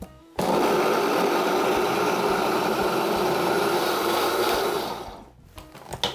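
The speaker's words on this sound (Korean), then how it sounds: "뚜껑 닫고 갈아보겠습니다." A blender grinds cooked rice with water under a closed lid, a loud steady motor whir running for about five seconds before winding down and stopping.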